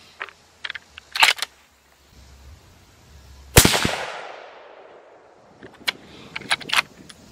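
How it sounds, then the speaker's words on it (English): A 6.8 Western rifle firing Browning 175 grain ammunition at a range lets off one loud, sharp shot with a long decaying echo, surrounded by quieter clicks and handling noises. "3 shots of the Browning 175 grain here"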